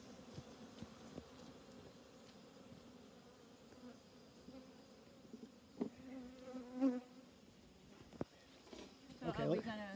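Bees swarm around a beehive in a steady, close droning buzz that continues throughout, with brief human voices breaking in near the end.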